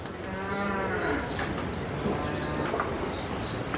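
A huge Sahiwal bull at the Gabtoli cattle market gives a couple of long, close, drawn-out moos over busy market background noise.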